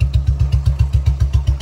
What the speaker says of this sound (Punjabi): ਬੁਲਟ ਮੈਂ ਕਾਫੀ ਦਿਨਾਂ ਬਾਅਦ ਚਲਾਇਆ